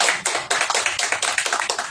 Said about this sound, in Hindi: ताली बजा दीजिए इस बात के लिए।